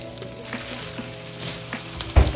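Minced garlic fries in olive oil in a pan with a steady close sizzle, a few soft clinks and stirring scrapes, and a louder thump near the end, with no voices.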